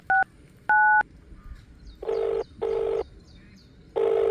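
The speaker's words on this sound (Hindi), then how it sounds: "फोन करता हूँ मैं।" A telephone is dialed as a series of short, clear tones, two high beeps and then three longer, lower tones, each separated by a short gap, heard close over a quiet background.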